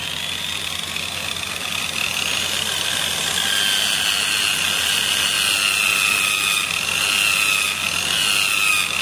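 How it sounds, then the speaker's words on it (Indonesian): A handheld drill grinds a power scooter part flat in a workshop, making a continuous, steady, high-pitched whine with a rasping rub underneath, with no talking. "Kita gunakan bor ini sampai permukaannya betul-betul rata."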